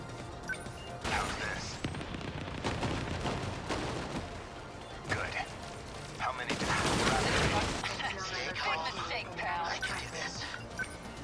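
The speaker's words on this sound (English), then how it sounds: "multi-lock to hit the missiles up above" Multi-lock missile barrage in 13 Sentinels: Aegis Rim: dense waves of explosions and rumbling impacts swell and fade over several seconds, with someone talking over the battle.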